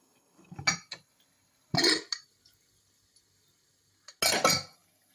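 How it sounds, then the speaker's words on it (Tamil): Pressure-cooked onions and water being poured through a metal strainer for an onion chutney make three short, close clattering and splashing bursts with quiet gaps between them, and no talking. "இது ஒரு வடியில் வடிகட்டிப்போம்"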